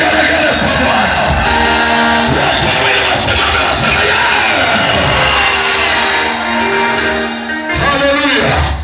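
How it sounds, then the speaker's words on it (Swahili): A church congregation responds with applause, cheers and high ululation, a dense, continuous crowd roar that holds steady with only a brief dip near the end. "Hebu mshangilie Yesu kwa makofi na vigelegele vizuri kabisa."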